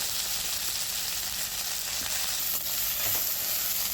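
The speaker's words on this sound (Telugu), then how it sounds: "మునగాకును దానిలో మునగాకులో ఉన్న నీరంతా పోయే వరకు వేయించుకోవాలండి" Moringa leaves fry in a pan with a steady, fairly quiet hiss and sizzle, their moisture cooking off, with faint occasional stirring and no voices.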